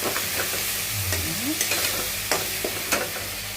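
Potatoes fry in oil with poppy seeds, a little sugar and a splash of water, giving a steady close sizzle broken by scattered clicks and scrapes of stirring, with no talking.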